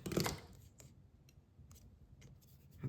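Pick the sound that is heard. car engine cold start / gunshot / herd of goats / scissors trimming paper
scissors trimming paper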